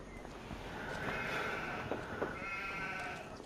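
A couple of sheep bleats from the video game Farm Sim 25 sound faintly over a quiet background, short wavering calls without any speech.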